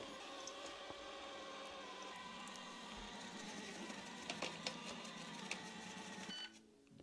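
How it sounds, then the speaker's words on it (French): Proscenic 850T robot vacuum cleaner driving back to its charging base, a steady whirring motor drone with small clicks and bumps, cutting off abruptly near the end as it docks. "Et là, notre aspirateur est censé revenir à sa base."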